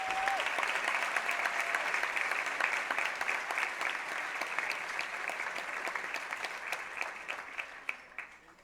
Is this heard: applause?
yes